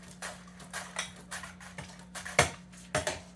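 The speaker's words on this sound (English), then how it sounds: "thin slices of fennel. It's called a mandolin." Fennel slicing on a mandoline fitted with its safety guard, a steady series of quiet rhythmic scraping strokes, close and alone, about two or three per second.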